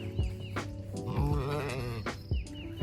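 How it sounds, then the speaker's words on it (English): Several sheep bleat while being fed on a farm, with overlapping wavering calls from close by, a long quavering bleat in the middle and shorter ones before and after. "So now I'm feeding the sheep"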